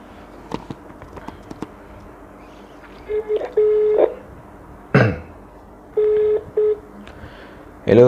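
Phone call being dialed out at half past one in the morning: a few scattered clicks and taps, then short bursts of dialing tones and a pair of ringback-like beeps, with a loud thump between them.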